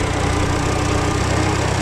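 A worn-out Farmall Super A tractor engine with blow-by from the valve cover runs steadily at idle, a close, loud, even chugging drone with a low thumping pulse and no talking.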